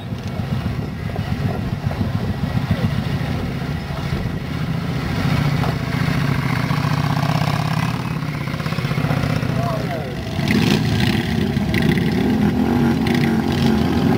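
A Yamaha Virago motorcycle at a Bath motoring pageant gives off a steady, loud low engine rumble that swells briefly near the end, with people talking over it.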